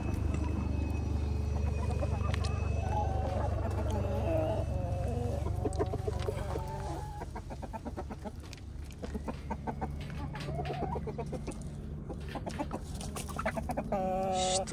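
Chickens cluck and squawk in repeated bursts close by, with a long-spurred rooster among them and a low hum underneath.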